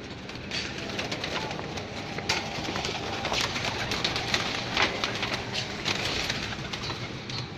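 Breeder pigeons released from a rooftop coo and flutter against steady, moderately loud outdoor background noise, with soft wingbeats and calls scattered throughout.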